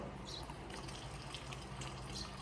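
Water runs steadily from a bathroom tap into a sink, a constant hissing flow at close range with no talk, while a face is dampened before cleansing.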